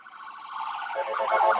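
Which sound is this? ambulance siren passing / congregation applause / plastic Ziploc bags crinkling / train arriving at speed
ambulance siren passing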